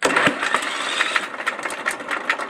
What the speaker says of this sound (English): If I try to start it with the key.